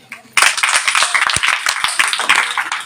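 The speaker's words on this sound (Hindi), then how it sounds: "एक बार ऐसे प्रॉफिट विजेंद्र की ताली बजाओ" An audience at a Hindu religious discourse gathering breaks into loud, close clapping that begins suddenly and continues as a dense, uneven patter of hands for over two seconds.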